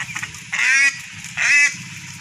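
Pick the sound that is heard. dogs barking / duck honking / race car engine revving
duck honking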